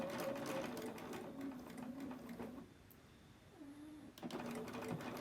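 Sewing machine edge stitching a scrub cap runs in a steady close buzz, stops for a quiet pause near the middle, then starts up again in short bursts toward the end.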